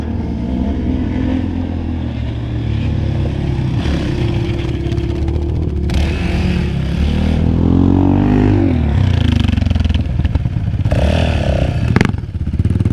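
A quad ATV engine roars loudly close by at an off-road riding spot, revving in rising and falling swells with clattering and thumps throughout, and no talk.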